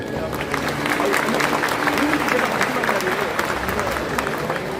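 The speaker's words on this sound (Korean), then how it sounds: "서로에게 박수 주시기 바랍니다." Applause from the audience at a city mayor's farewell ceremony in Incheon, a steady wash of clapping throughout with faint crowd murmur.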